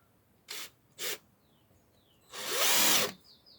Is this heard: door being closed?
no